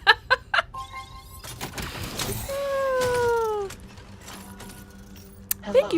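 A cat meows in the video game Death Stranding 2, several short mews followed by a longer drawn-out meow, with faint game sounds around it and no speech.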